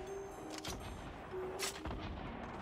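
Explosive bursts from grenades in a Fortnite solo duo battle, with two or three loud booms spaced about a second apart over steady game background noise, close and punchy.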